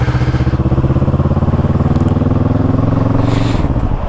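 A motorbike rides along narrow little lanes, its engine throbbing loud and close in a steady pulsing rhythm, and the pitch drops slightly as it eases off near the end.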